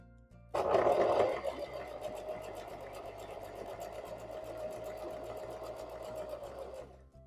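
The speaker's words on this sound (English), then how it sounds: "So, in this next bit of sewing, I'm going to purposefully miss a piece." A sewing machine stitches through webbing, starting abruptly with a loud burst and then settling into a steady, close mechanical whir with a fine rapid needle rhythm until it stops near the end.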